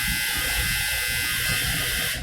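A clothes dryer runs nearby with a steady, loud mechanical whir and hum that stays constant throughout.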